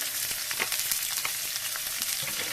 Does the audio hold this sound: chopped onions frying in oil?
yes